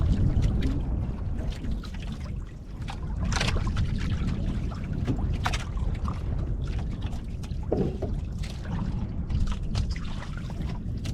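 Strong river current rushing past a small fishing boat, a steady loud wash of flowing water and wind noise throughout with occasional splashes, no speech.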